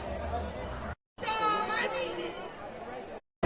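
Crowd chatter at an Iranian protest in London, a dense outdoor babble of many voices with brief cutouts and a clear nearby voice rising above the hubbub midway.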